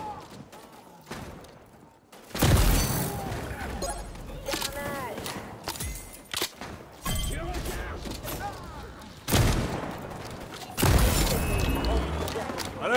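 An activated turret firing in XDefiant, heard as bursts of mechanical gunfire and impacts that start abruptly after a quiet moment and recur in loud clusters amid busy game action.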